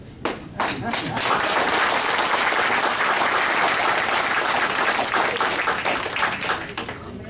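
Sustained applause from a live audience at a congressional candidates' debate in Hampton Bays, loud and dense clapping swelling quickly and holding steady for several seconds before tapering slightly.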